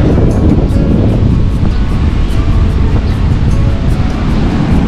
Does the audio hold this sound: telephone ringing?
no